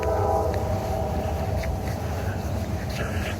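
Steady low rumble of a passing freight train on freight train tracks with a broad, continuous roar and faint higher squeals, moderately distant and unbroken throughout.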